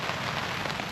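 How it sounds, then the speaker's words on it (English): Heavy, horrendous rain pounding steadily on a surface, dense and continuous throughout with no talk. "The rain is actually horrendous."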